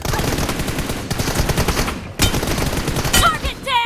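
Rapid bursts of gunfire from a shooter video game fill the clip, dense automatic fire with a brief lull near the middle before loud shooting resumes, ending with short electronic effects.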